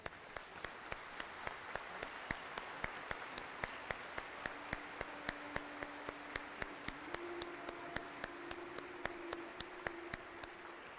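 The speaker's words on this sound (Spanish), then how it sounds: "Vamos a darles un cariñoso aplauso." Steady, sustained clapping from a congregation inside a basilica during a first communion and confirmation service, dense and continuous with sharp individual claps standing out, with a faint sustained tone from an organ or instrument beneath.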